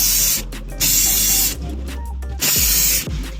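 Loud bursts of 3D scanning spray hiss close by, three or four separate blasts with short pauses between them.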